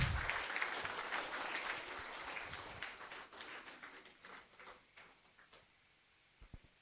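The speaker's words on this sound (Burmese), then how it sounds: "ထပ်မံပြီးတော့သမီးလေးကိုလက်ခုပ်လေးတီးပြီးတော့အားပေးလို့ရပါတယ်" Audience applause for a child at a prize-giving, loud clapping at first that thins and fades to a few scattered claps.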